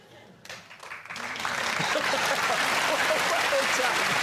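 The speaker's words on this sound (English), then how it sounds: "What are they clapping?" A studio audience at a comedy panel show breaks into clapping that swells from near quiet to loud, sustained applause, with a few voices mixed into the crowd noise.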